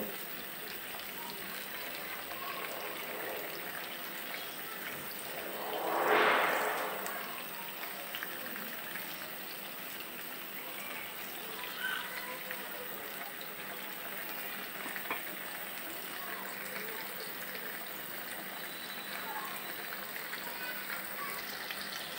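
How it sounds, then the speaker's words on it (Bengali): Fish frying in a pan while being stirred, a steady bubbling sizzle throughout with one louder surge of spattering partway through, close and continuous. "মাছগুলোকে নেড়ে চেড়ে আমি 3 মিনিটের মতো ভেজে নিব।"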